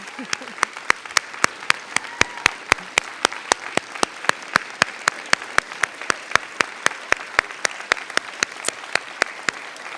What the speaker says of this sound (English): I think they need a standing ovation